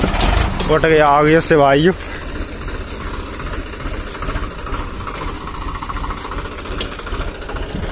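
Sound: Swaraj 744 XT tractor engine pulling loaded trolley

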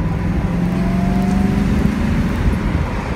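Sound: 1985 Mercedes-Benz 380SL V8 roadster driving on the road

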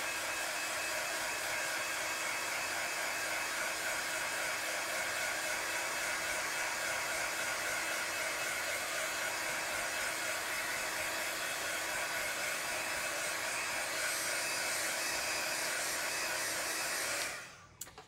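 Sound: hair dryer quickly drying paint

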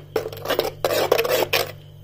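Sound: stirring curd in a pot on the stove

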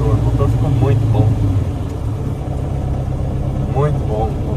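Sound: VW Beetle gasoline engine with FuelTech FT450 injection idling

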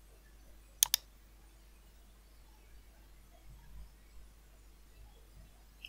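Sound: computer mouse clicking

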